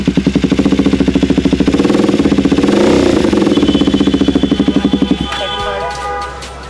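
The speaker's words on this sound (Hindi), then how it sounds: "तो गाइस इस एग्जॉस्ट की आवाज़ बहुत लाउड है।" A KTM Duke 390 fitted with an SC Project short can exhaust idles and revs loudly close by, a rapid throbbing pulse that swells then settles to a rougher idle, while someone talks over it.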